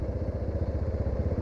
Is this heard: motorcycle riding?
yes